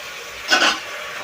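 Tomatoes being sautéed with onions in a pan for vegetable biryani, a brief scrape and sizzle of stirring that swells for a moment, then settles back to a low frying hiss.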